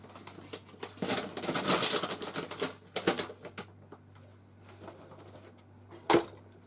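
A Happy Christmas die is run through a die-cutting machine with foil, giving a rough grinding rattle that builds and fades, then scattered clicks and one sharp snap near the end, all close and without talking.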